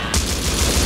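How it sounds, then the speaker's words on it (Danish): Rapid automatic gunfire in the survival game Rust during a base raid, a dense continuous burst of shots lasting about a second at steady loudness, with no talk over it. "Jeg kan ikke hjælpe dig op, jeg bliver skudt."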